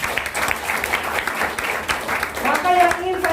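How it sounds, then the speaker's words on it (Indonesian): An audience gives a burst of applause, dense clapping from a crowd throughout the short stretch, with a voice speaking over it toward the end. "Beri aplaus buat Melia Sehat Sejahtera."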